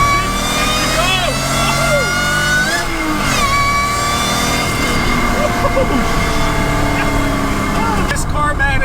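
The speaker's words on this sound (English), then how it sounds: "all I have to do is a quick downshift and she goes" A supercharged J32A2 V6 in an SW20 Toyota MR2 downshifts and accelerates, its engine note climbing and shifting pitch up close, with a voice speaking over the revving.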